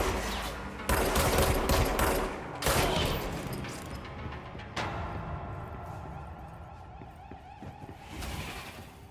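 Enemy gunfire in the action game Control: several loud, sharp bursts of automatic fire early on, each trailing off into echoing decay, then fainter scattered shots and clatter toward the end.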